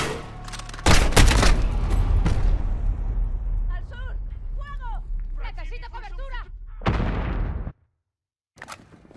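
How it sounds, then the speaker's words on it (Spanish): Dense bursts of automatic gunfire crackle loud and close in a Call of Duty: Modern Warfare firefight, with sustained volleys and brief pauses, under shouted voices before a sudden drop to silence. "Apuntad y disparad hasta que caigan, como dijimos."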